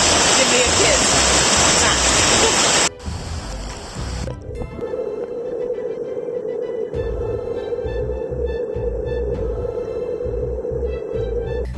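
A waterfall and strong river current in the Amazon rainforest of Suriname. A loud, close rush of falling water drops abruptly into a lower, steady churning flow with a persistent hum, continuing unbroken.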